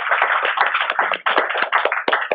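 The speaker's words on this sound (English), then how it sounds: "let's give them a round of applause" An audience at a career-series panel on advocacy and policy careers applauds the speakers: brisk, continuous clapping from a modest crowd, close and fairly loud, with no talking over it.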